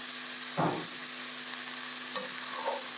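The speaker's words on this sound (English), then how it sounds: "We continue cooking our greens." Spinach and other greens being stirred in a pan, cooked in a wet style with tomatoes, give off a steady soft sizzle with a brief scraping stir near the start and another faint one later; no one speaks.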